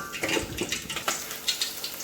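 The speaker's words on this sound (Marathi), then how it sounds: "त्यामध्ये आपण कढीपत्ता, टोमॅटो सगळं टाकून छान परतून घेऊ" Onion, green chili, spices, curry leaves and tomato sautéing in a pan for a village-style dal, with a soft frying hiss and stirring clatter at close range, no voices.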